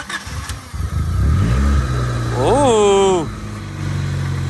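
A yellow 1990 Honda CRX Si (EF8) engine starts and revs, rumbling close by with a rising rev while a person exclaims over it.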